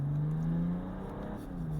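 A tuned BMW F30 330d diesel car pulls hard under acceleration, its steady engine drone rising slightly in pitch as it runs through the gears, close and continuous with no talk.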